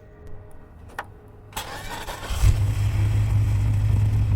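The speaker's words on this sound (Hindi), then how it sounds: "5वीं कोशिश में इंजन स्टार्ट हो गया।" A car engine cranks on a fifth attempt and catches, a few faint clicks and a sharp crank giving way to a loud, steady low idle rumble that builds and holds close by.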